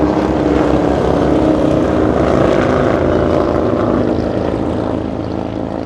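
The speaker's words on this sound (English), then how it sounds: "That is Delta 368 flying in from Honolulu. A 757-300" A Delta Boeing 757-300 arriving at Los Angeles International from Honolulu gives a loud, continuous engine drone close by, steady throughout and fading slightly at the end, with no talking.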